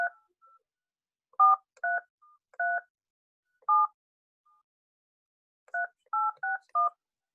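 Telephone keypad DTMF tones enter a meeting ID on a conference call, about ten crisp two-tone beeps in short irregular bursts, clear and close with silence between presses.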